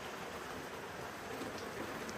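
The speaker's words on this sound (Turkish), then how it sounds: "Yağmur yağdı, içeri kaçtık." Steady rain pours down outdoors, a dense, even hiss of drops on surfaces that holds without a break from start to finish, with no voices over it.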